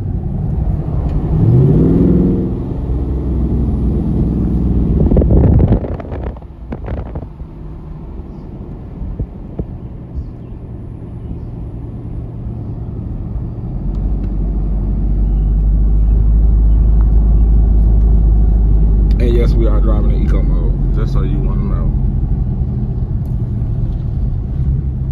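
A 2022 Dodge Charger Widebody Scat Pack drives through downtown Montgomery, Alabama, with a low engine rumble heard from inside the car. The drone swells louder partway through, with a few clunks and a brief spell of rattling noise.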